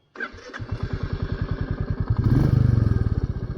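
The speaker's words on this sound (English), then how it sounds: "Fire it up." Royal Enfield Meteor 350 motorcycle starts up and settles into a steady thumping single-cylinder idle, each beat distinct, close and loud, with a brief rev swelling midway.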